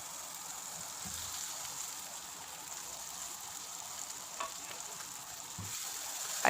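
Chicken and vegetables fry in a pan for a Pakistani chicken malai handi, giving a steady close sizzle throughout with a few soft stirring clatters and no talk.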